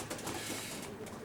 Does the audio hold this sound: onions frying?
no